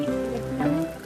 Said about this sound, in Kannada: ಮಳೆ ಫುಲ್